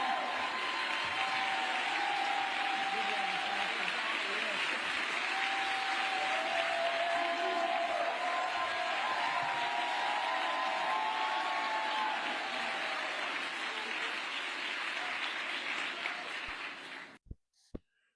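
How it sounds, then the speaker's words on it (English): An audience claps in a sustained round of applause at a talk on youth civic activism and children's literature, a dense, even wash of many hands that carries on for about seventeen seconds before cutting off. "stand and give them a roaring round of applause for Meg Medina and Stacey Abrams."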